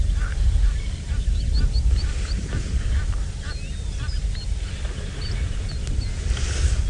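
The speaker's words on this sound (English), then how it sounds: "A lot of different birds calling." Many birds call at once over a constant low rumble at a dam on a sunrise safari drive, with honks and chirps scattered throughout; a voice can be heard faintly underneath.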